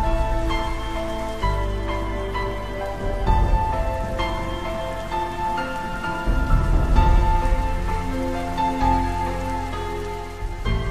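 Steady rain pattering on a surface with occasional low thunder rumbles, layered beneath a soft musical drone as a constant background bed.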